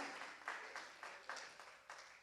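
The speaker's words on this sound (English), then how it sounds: "Applaud me" An audience at the Chabad Gala 2026 applauds faintly from a distance, a soft wash of clapping that swells in short repeated pulses.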